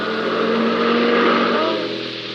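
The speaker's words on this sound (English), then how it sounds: "Oh, Peter, there's the car" A car passes by in an old radio drama, its engine swelling to a loud peak and then easing off as it moves away, heard alone with no talk.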